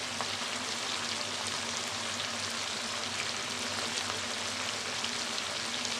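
Green chili paste sizzles in hot oil with cooked chicken and tomato in a pan, a loud, continuous frying hiss that stays even throughout.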